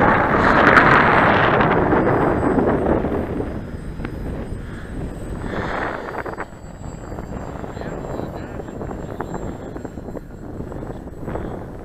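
A Parkzone Mosquito RC model airplane flying controlled circles in windy conditions makes a buzzing motor whine that is loudest early and then fades, while gusts buffet the microphone throughout.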